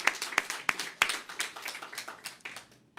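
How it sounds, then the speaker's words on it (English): Sparse, scattered clapping from a small audience at a Chinatown community celebration in New York, a few sharp claps at first trailing into lighter, uneven pats that fade out. "Let's give them a round of applause"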